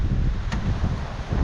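Strong wind buffets the microphone on a coastal state park bike ride, a continuous low rumbling roar with a brief gust spike partway through.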